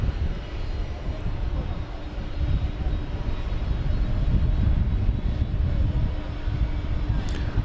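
An American Airlines Airbus A321neo bound for Las Vegas roars on the runway at DFW airport at night, a broad, steady engine rumble that swells slightly and holds, heard from a distance.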